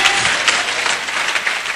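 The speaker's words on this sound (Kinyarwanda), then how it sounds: "Reka dukomere Imana amashyi menshi cyane." Church congregation applauding during a Kinyarwanda sermon, a steady dense wash of clapping that fills the short stretch at even loudness with no pauses.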